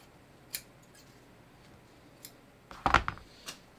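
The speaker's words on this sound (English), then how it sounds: "So let me just cut this fabric." Scissors snipping fabric while draping a cover on a dress form, a few faint isolated snips followed by a quick cluster of louder cuts, quiet room otherwise.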